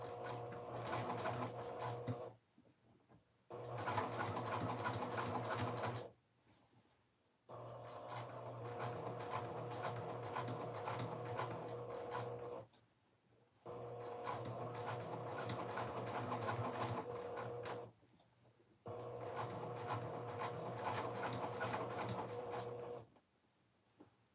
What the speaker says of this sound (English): I'm going to edge stitch.